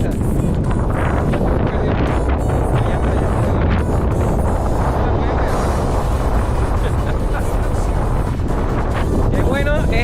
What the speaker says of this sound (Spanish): Demasiada brisa.